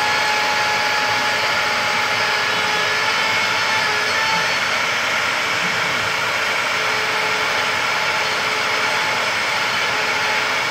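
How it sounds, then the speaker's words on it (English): A shop vacuum runs steadily as dust collection during CNC router pocket cutting through blue-faced MDF for a 4x8 sign, a loud continuous whine with no breaks and no talking. "I'm running this with the shop vac."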